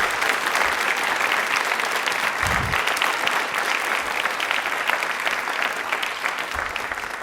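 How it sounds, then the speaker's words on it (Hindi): Hearty, continuous audience applause fills the hall at a Hindi quiz event, loud and even throughout with a few low thumps mixed in and no speech. "तालियां दिल से जोरों से बजा दीजिए इनके लिए।"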